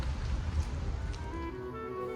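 Heavy rain pouring down in Warsaw, Poland, a steady broadband wash of falling water with a low rumble underneath, continuous and fairly even throughout with no voices.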